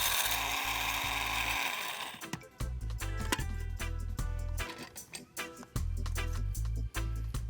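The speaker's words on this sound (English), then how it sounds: "Now grind this mixture to a fine powder." A food processor or spice grinder pulverizes a dry mix of allspice berries, nutmeg, cinnamon and pimento leaves, starting with a steady whir, then pulsing in short bursts with rattling and thumping.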